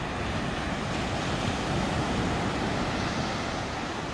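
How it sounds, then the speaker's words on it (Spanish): Rough surf pounding a beach at a seaside resort in early-morning light rain, a continuous, dense roar with heavy wind buffeting the microphone and no voices. "Está lloviendo un poquito y está re fuerte el mar."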